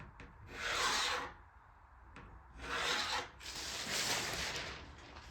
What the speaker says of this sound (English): We draw the line.